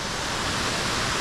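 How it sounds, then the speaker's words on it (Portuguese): Cascata do Trovão, a very tall waterfall in Serra da Canastra, pours in a steady, loud, broadband roar of falling water that holds constant throughout with no voices. "uma baita queda d'água"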